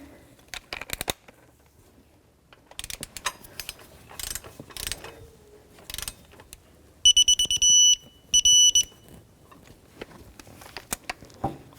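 A ratchet fitted with a Torx T50 bit loosens water pump bolts on a 1997-2004 Dodge Dakota, giving scattered quiet clicking bursts, with a short electronic beeping heard midway.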